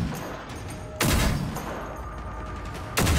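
A video game weapon fires in two sharp loud bursts about two seconds apart. Each burst is a crack followed by a ringing tail, and a steady hum fills the gap between them.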